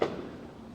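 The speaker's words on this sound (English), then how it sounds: "Those are definitely fireworks." A single firework goes off outside during a celebration in Richmond, a muffled distant boom at the start that fades into a low rumble.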